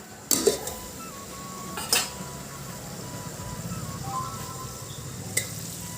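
Meat fries gently in a pan over medium heat, a faint steady sizzle with a few sharp clanks of a utensil against the pan and no talking.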